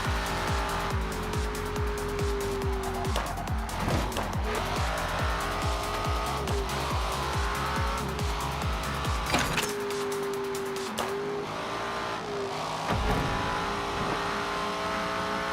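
A video game car driven hard with a steady engine drone, repeated long tire squeals as it slides through turns, and a brief drop in engine sound partway through before the screeching resumes, with no talking.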